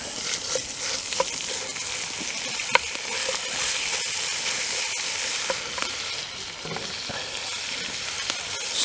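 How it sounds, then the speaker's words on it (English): Minced meat and browned onions stir-fry in a pot over a campsite fire, a steady broad sizzle with occasional scraping stirs and small pops, close and continuous with no talking. "Stir fry this,"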